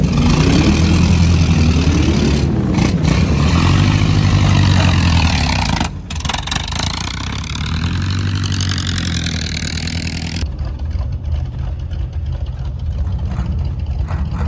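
Vintage Harley 45 motorcycle engines warm up and idle on race day at The Race of Gentlemen, Flabob Airport, in a loud, close, continuous rumble. The pitch wavers with throttle blips before settling into a steadier idle.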